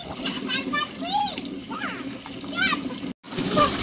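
Water splashes and sloshes over a small child's face and ears during bathing, close and irregular, mixed with children's voices and squeals that nearly mask it.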